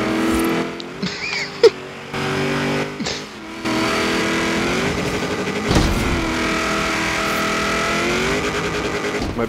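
A Hot Wheels car races in Forza Horizon 3, its engine droning loud and steady with rising and falling revs and gear changes, plus a few brief sharp bumps near the start.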